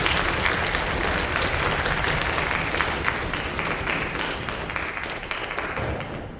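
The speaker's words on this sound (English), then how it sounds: "Let's have another round of applause for our" Audience at a high school honors orchestra winter concert applauds two cello soloists, a sustained wash of many hands clapping that slowly tapers toward the end.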